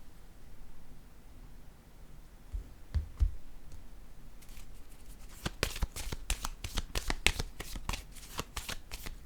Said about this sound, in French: Je vais déposer une dernière carte ici.